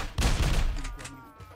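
Gunfire in a park-ranger poacher-hunting video game: a couple of heavy blasts close together near the start, then rumbling echoes and scattered fainter shots trailing off.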